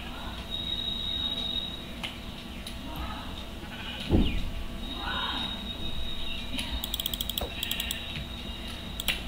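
Sheep bleat in the video game Minecraft, a few wavering calls at moderate distance over a bed of ambient game noise and clicks, with no talk.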